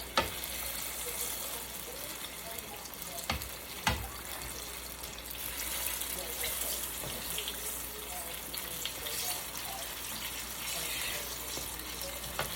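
Banana rolls (turon) frying in a pan after being flipped, a steady close hiss and crackle of hot oil with a couple of sharper pops early on, continuous throughout.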